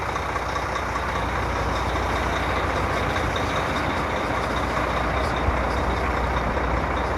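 A 2002 Volvo 12-ton truck in the Gulf, a steady, loud engine rumble with a constant drone and no breaks, near and alone.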